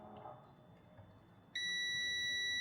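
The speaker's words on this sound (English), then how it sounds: "So now if it's continuity from here to here," Faint background hiss, then a sudden high multimeter continuity-test beep, checking an electric pallet jack, that starts partway through and holds steady and loud until the end.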